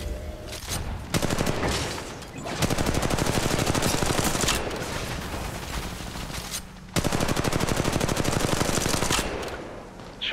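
Sustained automatic gunfire from the Apex Legends video game, loud rapid bursts with brief pauses between them and no talk.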